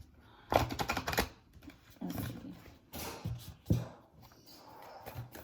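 A deck of tarot cards riffled and shuffled close by in several brisk bursts, with soft flapping and clattering between pauses.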